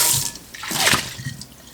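Tap water runs and splashes steadily while oily hands or a surface are scrubbed with soap under warm water, with a brief louder gush in the middle and no talking.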